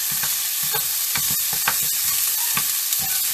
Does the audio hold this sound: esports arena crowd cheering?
no